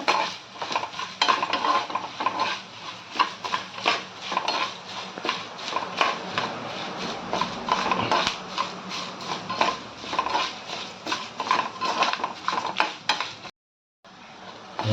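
Cumin and coriander seeds being dry-roasted and stirred in a pan, a steady run of rapid scraping and rattling of a utensil against the metal for the whole stretch, with a brief pause near the end.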